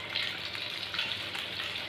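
Eggs frying in oil with cumin for an egg curry hiss in a steady, close, bright sizzle that stays even from start to finish.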